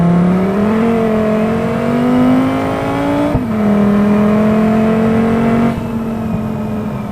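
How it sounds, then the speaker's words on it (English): Car engine in the BeamNG Drive racing game, heading onto a racetrack, revs steadily with a rising, slightly wavering tone, dips briefly with a click near the middle, then climbs again and eases off at the end; loud and alone. "Man, this car sounds nice actually."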